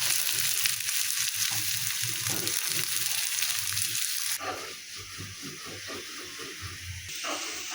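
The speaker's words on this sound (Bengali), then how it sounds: "আলু ভর্তা এবং বেগুন ভর্তার জন্য আমি পেঁয়াজটাকে তেলে ভেজে নেব।" Sliced onion frying in hot oil in a home kitchen, a continuous close sizzle and hiss that softens partway through with faint background noises.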